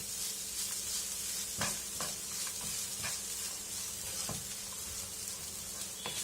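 Sugar and grated coconut sizzle and fry in a pan while being stirred, with a steady close hiss broken by scraping stir strokes.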